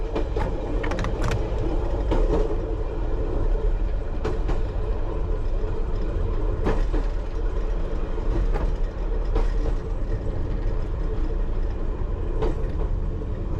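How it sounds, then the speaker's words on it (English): A London Underground Piccadilly Line train running toward Northfields station, heard from inside as a steady loud rumble with rail clicks and rattles throughout, no talk. "We'll shortly be arriving at Northfield Station, where this train will terminate."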